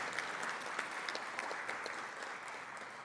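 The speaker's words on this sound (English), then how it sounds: "I think we should give each other a round of applause." Applause rises from the audience at a graduation ceremony, a brief, steady wash of many hands clapping at a moderate, somewhat distant level with a few sharper claps standing out.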